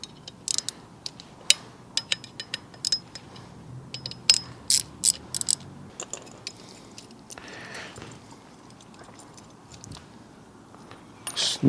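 A 4mm Allen key turns a bolt on a new kickstand fitted to a BMW 1250 GS Adventure motorcycle, giving scattered metallic clicks and ratcheting ticks at close range over quiet background.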